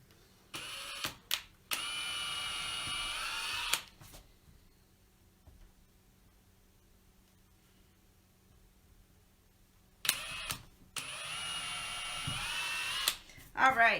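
Two bursts of small screw holes being drilled into a wooden coffee table tray, each a steady whine lasting a few seconds, split by a quiet pause with faint low background noise.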